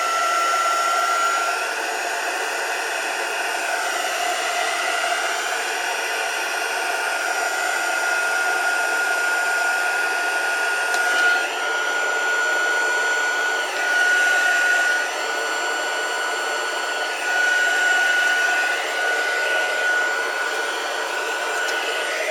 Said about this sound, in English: So just bear with me for a minute while I dry this off.